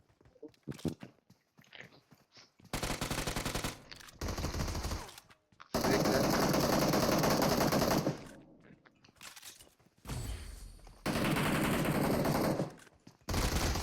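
Bursts of automatic fire from an M762 rifle and other light machine guns in the mobile battle royale game PUBG Mobile come in long, loud sustained volleys separated by short gaps and quieter clicks.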